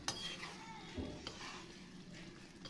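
A ladle stirs thick paneer curry in a pan, soft scraping strokes over a faint background sizzle, with an occasional light clink of metal on the pan.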